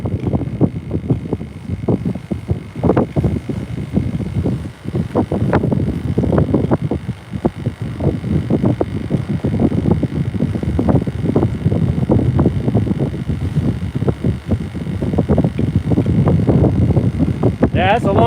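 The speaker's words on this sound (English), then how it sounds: "It seems like every time I try to go fishing, it's really windy." Steady wind gusts buffet the microphone on a saltwater fishing boat in Bayside, Texas, a loud continuous rumble with irregular bursts, while people talk over it.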